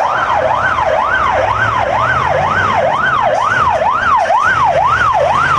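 A fire truck departs with a loud wailing siren sweeping up and down in a fast, regular cycle close by, over the low rumble of its heavy engine.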